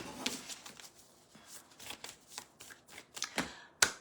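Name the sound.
shuffling a deck of cards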